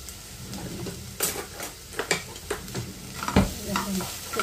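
Onions and chillies frying in oil in a pan, with a steady sizzle under repeated scraping and stirring strokes, some clinks of utensil against the pan, close and fairly loud throughout.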